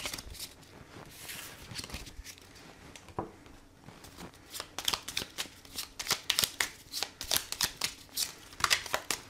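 Oracle cards are shuffled by hand in a steady series of crisp, close riffling and slapping bursts that grow quicker and louder toward the end, with no talk.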